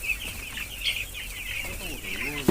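Ten-day-old broiler chicks on a poultry farm keep up a steady, high-pitched cheeping chorus, with a few wing flutters and a voice speaking briefly near the end.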